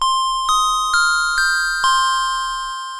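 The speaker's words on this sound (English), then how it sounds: "I've just pulled up the bell that I've got on the Juno 2." A bright synthesized bell patch on a Roland Juno-2 rings five evenly spaced notes with long sustained tones, then fades out alone.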